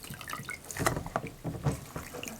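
A sponge is soaked in a bowl of water during a toddler water-transfer activity, with soft, continuous sloshing and dripping close by, plus a few brighter splashes.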